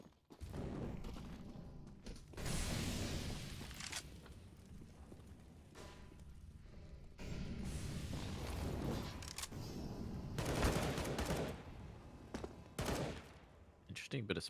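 Rapid spamming gunfire on the Overpass map in Counter-Strike, sustained rattling bursts that stop and restart several times, with a caster talking over parts of it.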